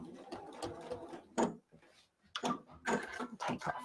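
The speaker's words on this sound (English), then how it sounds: "I'm gonna take a step, sew to the edge" A sewing machine stitches quilt binding to the edge in short, soft bursts of rapid mechanical chatter with brief gaps, heard close and quiet, interleaved with talking.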